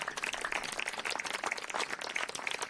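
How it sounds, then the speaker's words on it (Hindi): A church congregation claps together for the Lord during a Hindi sermon: dense, steady clapping from many hands, moderately near and continuous. "ताली मारिए प्रभु की।"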